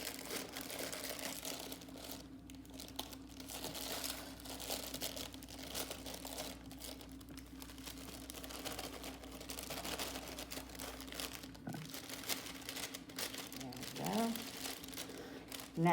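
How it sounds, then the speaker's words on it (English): A knife slicing open a plastic cake mix bag, with soft crinkling and rustling of the packaging up close, plus a few sharper rips toward the end, under a quiet background. "I'm going to use my knife to open my cake mix"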